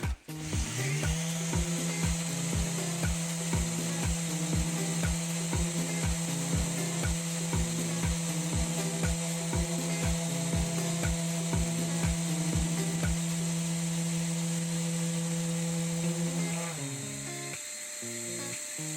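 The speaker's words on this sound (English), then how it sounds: "I'm just going to lightly pass over this with the sander" A Mercadero sander passes lightly over a wear mark on a wood worktop. Its close, steady motor whine has a fast rhythmic pulse and runs continuously before cutting off near the end.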